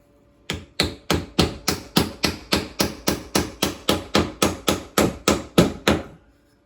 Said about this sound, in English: So we go to a shim that we can drive in a ways.